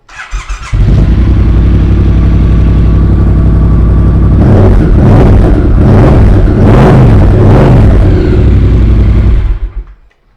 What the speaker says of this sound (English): It's not too loud, it's just a really nice low down sound.